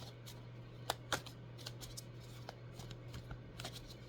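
Hands shuffle a deck of tarot cards in quiet, soft repeated riffling and tapping of card edges, close but faint, over a low steady hum, without speech.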